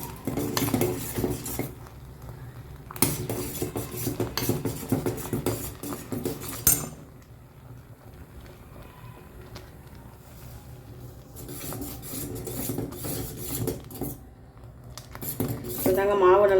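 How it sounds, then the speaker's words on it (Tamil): Porridge (kanji) of flour boiling in a pot and being stirred, with metal scraping and clinking of the spoon against the pot in bursts, interrupted by quieter stretches of soft bubbling. "பாருங்கள் எப்படி கொதிக்குது."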